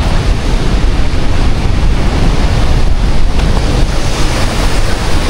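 Sea waves surging continuously at San Narciso beach in Zambales, where the sea meets a river; loud, steady surf with heavy wind buffeting the microphone throughout.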